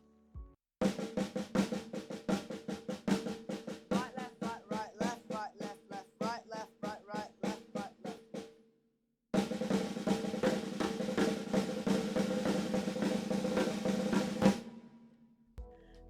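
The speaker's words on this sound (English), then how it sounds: "Once you know how to play a paradiddle fast," Fast paradiddle rudiment played on a drum kit, a rapid steady stream of close, loud strokes in two bursts separated by a brief pause, with no talking.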